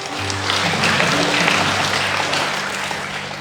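A church congregation gives steady, dense applause, loud and near, lasting a few seconds under sustained musical tones.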